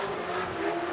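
Nissan S14 drift car on Falcon tires with field suspension, engine holding a steady loud drone at qualifying in Orlando, continuous and strained with no pause.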